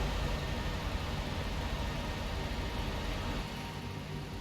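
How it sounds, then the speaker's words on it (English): Truck engine in Euro Truck Simulator 2, a steady low drone with broadband road noise that continues evenly throughout, slightly quieter near the end, with no talk over it. "I actually can turn down the truck noise"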